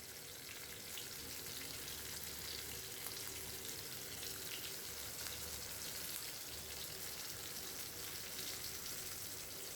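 Stuffed pomfret fish fries in a pan, a steady soft sizzle and crackle of hot oil running evenly throughout, fairly quiet and unbroken, with no voices.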